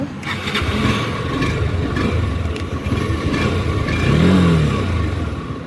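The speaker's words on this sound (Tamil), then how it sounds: "same engine and same exhaust, அப்போ சவுண்டும் அதே தான் கைஸ்" A steady, rumbling engine drone with a low exhaust note, rising slightly toward the end like a throttle blip, with no talking.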